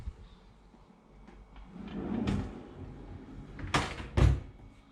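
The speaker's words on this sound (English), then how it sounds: "you've got your tea making facilities in this drawer here. So you just pull it out." Faint shuffling is followed by a few quiet scrapes and knocks as a hotel-room drawer holding tea-making things is pulled open, with two sharper thuds near the end.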